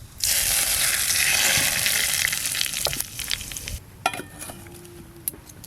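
Nigella seeds fry in mustard oil in a wok with a loud, bright, crackling sizzle, then drop to a quieter simmer broken by a few clinks and scrapes. No one talks.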